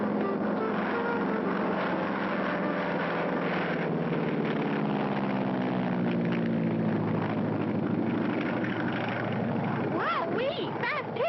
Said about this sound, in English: Fast takeoff, Clutch.